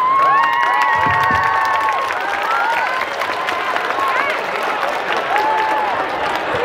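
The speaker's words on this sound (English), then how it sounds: "Thank you all for that lively applause." School homecoming skit audience clapping and cheering steadily, a dense crowd roar with children's shouts and whistles rising over the applause throughout, loud and close.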